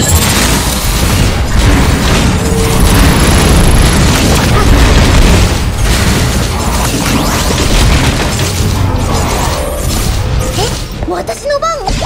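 Fireworks bursting in the video game Honkai Impact 3rd, a loud, continuous barrage of booms and crackling pops with rumbling low end, layered with game music and effects, sustained throughout.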